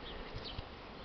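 Steady buzzing from many Buckfast honey bees, a continuous hum at moderate volume, with a few louder individual passes close by.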